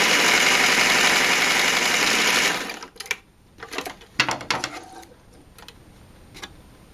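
A sewing machine runs a continuous fast stitching burr along a simple tunic's sleeve seam, then stops abruptly, followed by a few soft clicks and fabric handling sounds.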